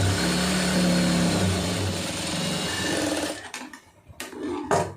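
A sewing machine runs steadily while stitching a blouse, a loud continuous mechanical whir for about three seconds, then it slows and stops, leaving a few short bursts of handling noise.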